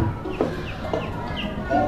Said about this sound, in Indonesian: Itu ada ayam lagi.